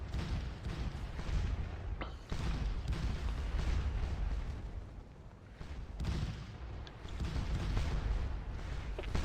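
Artillery guns in a video game fire repeatedly on French troops, heavy booms rolling one after another with a rumbling battlefield bed beneath, no voices over them.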